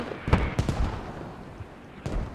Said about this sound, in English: that's gonna be the Bradley's actually shooting there